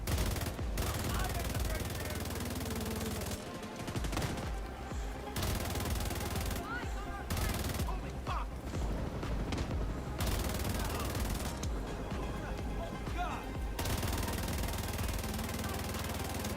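A fast-firing gun rattles in The Division 2, loud bursts of rapid automatic shots broken by short pauses across the whole stretch, with a player talking over the action.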